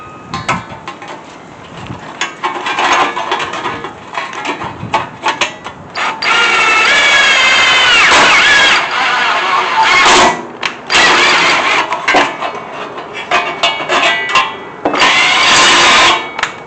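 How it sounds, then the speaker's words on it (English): A power drill bores through a sheet-metal muffler cover in bursts, whining and rattling as it starts and stops, loud and close, with long sustained stretches between shorter stabs. "I did that so I can continue drilling through this bottom piece"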